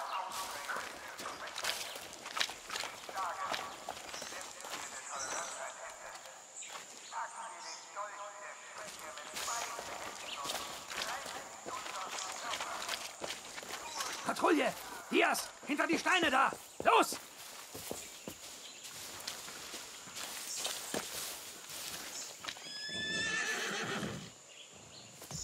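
Horses neighing and clip-clopping hooves in a forest in Far Cry 6, whinnies rising repeatedly over steady game ambience, with someone talking over much of it.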